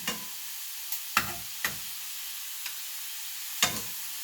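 Meatballs browning in a pan make a soft, continuous sizzle, broken by a few sharp clicks and taps of a utensil against the pan spaced irregularly, with no talking.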